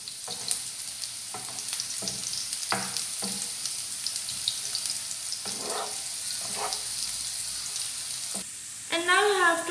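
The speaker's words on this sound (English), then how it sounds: "then in it we have to add ginger and garlic finely chopped. So now you have to saute it well at high flame." Finely chopped ginger and garlic sauté over a high flame for chilli chicken, a steady hiss of frying broken by the occasional scrape of a spatula, close and fairly quiet, with a brief voice near the end.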